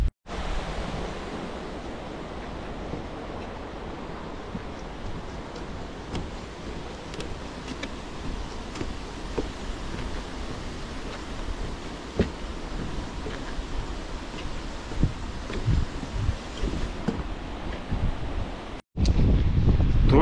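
Baltic Sea surf roaring at Šventoji, heard from about half a kilometre inland: a continuous broad rushing wash mixed with gusty wind buffeting the microphone, with no voices and a brief dropout near the end.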